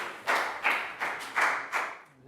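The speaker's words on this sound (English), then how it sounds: "Round of applause for Chu." A classroom of Year 4 pupils claps together in a round of applause, five distinct rhythmic bursts in quick succession, close and fairly loud, the last one trailing off.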